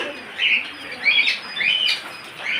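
Small caged birds at a bird seller's stall, budgerigars and quail among them, chirp in repeated bright bursts about every half second, fairly close and steady, with no talking.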